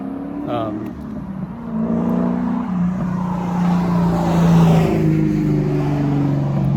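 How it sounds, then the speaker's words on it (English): An old Mustang or Camaro drives past, its engine note rising and falling in a steady harmonic hum that swells as the car nears and fades as it moves on. "I think it's either an old Mustang or an old Camaro"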